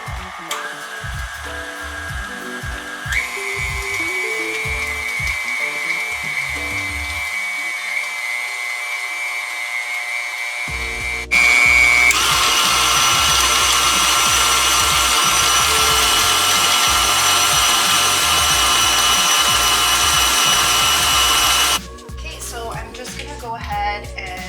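Electric mixer beating batter in a home kitchen, a loud continuous whirring motor drone that steps up in pitch and intensity midway, then cuts off near the end with clattering handling noise.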